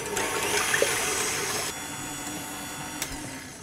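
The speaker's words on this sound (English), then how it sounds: "Now I'm going to whisk up my egg whites using the machine this time to save my arms." An electric mixer whisks egg whites toward soft peaks in a bowl, a steady close whirring drone with a slight drop in pitch and level partway through, with no talking.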